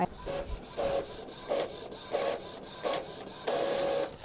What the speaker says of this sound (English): I'm gonna print the rest.